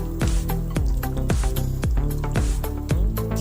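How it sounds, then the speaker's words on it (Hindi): Water is added to a chicken pakora mixture, giving loud, close, wet squelches and drips that repeat in a steady rhythm about twice a second, with no talking. "आधे पानी ऐड करें।"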